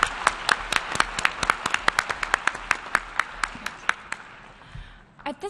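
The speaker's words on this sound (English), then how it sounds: "Can we have one more round of applause for all the hard work that the Senior Secretariat and all of these Secretariat members on our team have put" Applause rings through the UN General Assembly Hall at a model UN opening ceremony, with many distinct claps in a steady rhythm that tapers off near the end.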